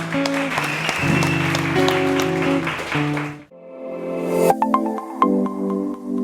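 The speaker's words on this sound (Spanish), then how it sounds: "Le damos un aplauso al Señor." A church congregation applauds at the close of a Spanish-language service, with scattered claps heard alongside sustained keyboard or organ chords that carry through the whole stretch.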